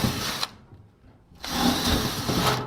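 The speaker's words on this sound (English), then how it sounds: "I'm going to drill every one of these 10 rivets out of the front right now" A power drill with a 1/8 inch bit bores out aluminum rivets on a computer case front panel, whirring in two bursts separated by a short pause, close and loud.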